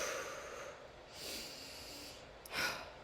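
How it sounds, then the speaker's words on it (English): Rhythmic breathing exercise in a movement and dance lesson: a few breathy exhalations and a sharp snort-like breath, close and fairly soft, with no talking. "Then back to breathing."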